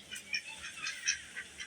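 Backyard ducks in a shaded pen give a series of short, nasal honking quacks, several separate calls repeating close by with no talking.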